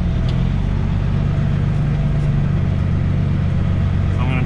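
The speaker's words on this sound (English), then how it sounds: "Drive the truck right up into here." A truck engine runs steadily under load as it creeps up to the unloading spot, giving a loud, continuous low drone with a hint of acceleration near the end.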